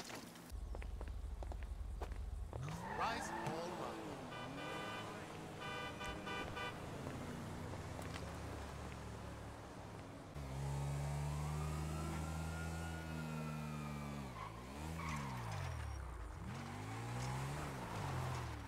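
Car in GTA driving and skidding amid the game's traffic, engine revving with rising and falling sweeps, horn toots and a siren-like wail, loud and continuous throughout.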